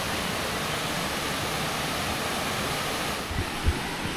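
Water pours down the waterfall at Riam Parong as a steady, broadband rush, constant and close, with a couple of faint thumps near the end.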